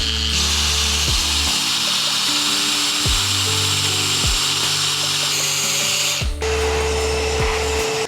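A power drill bores oversized holes through old barn wood, its motor whining loudly and steadily while the bit chews through the board, with several short pitch drops as each hole breaks through.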